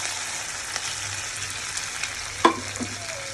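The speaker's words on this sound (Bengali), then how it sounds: "এখন আমি এই বেরেস্তাটা মাংসের মধ্যে ঢেলে দেবো" Fried onions are tipped into a pan of sizzling meat, and a steady bright sizzle holds throughout, with a sharp clack of a utensil near the end and a few soft knocks after it.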